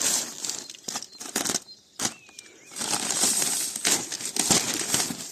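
Packaging crinkles and rustles near and loud in irregular bursts with brief pauses while the parts of a homemade refrigerated trailer kit are unpacked.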